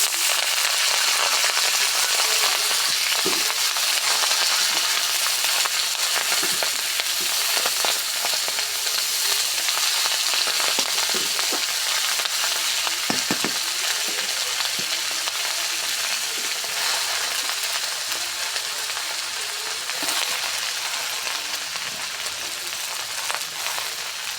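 Mixed leafy greens fry with browned onion in a pan, giving a loud, steady sizzle and crackle that runs unbroken throughout with occasional stirring scrapes.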